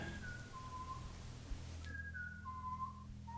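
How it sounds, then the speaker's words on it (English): Someone whistles a few short melodic notes, clear and moderately close, pausing briefly midway before the tune resumes over a low steady hum. "That sounds like whistling."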